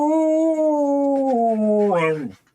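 A dog at home lets out a long, close, sustained howl that wavers and slides downward before breaking into a brief whimper and fading out.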